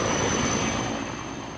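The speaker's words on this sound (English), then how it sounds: "These giant helicopters are so precise, they can get right down to a tree if they need to." Large firefighting helicopter flying near a wildfire at Black Canyon City, Arizona, after taking on retardant; a steady, loud engine and rotor roar fills the short stretch, tapering slightly toward the end.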